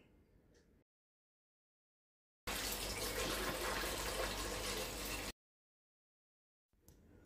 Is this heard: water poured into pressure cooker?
yes